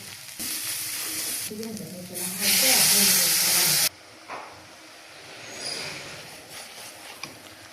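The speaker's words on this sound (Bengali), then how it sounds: "পেঁয়াজ এবং রসুনকে ভালোভাবে কষিয়ে নেব" Onion and garlic sauté in hot oil, starting with a loud, hissing sizzle that surges and then cuts away to quieter sputtering and stirring sounds.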